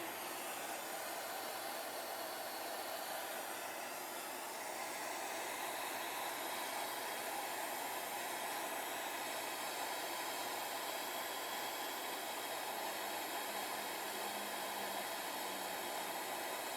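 Steady broadband hiss of air rushing out as a Martins Industries MHA 100 Flatematic tire inflator deflates a tire, loud and constant throughout with no talk.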